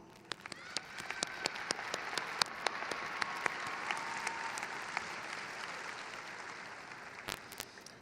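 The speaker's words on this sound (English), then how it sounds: "Join me in extending a round of applause to your family and friends" Steady audience applause fills a high school graduation ceremony, a dense crowd clapping continuously with scattered sharper individual claps standing out, sustained for several seconds.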